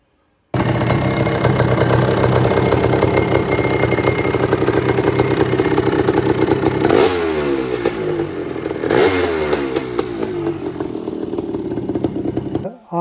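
A 500cc motorcycle engine fitted with a Lectron 40mm Big Air Billetron carburetor runs loud and close, with a steady, clattering mechanical idle that dips and swells briefly in revs partway through before settling again.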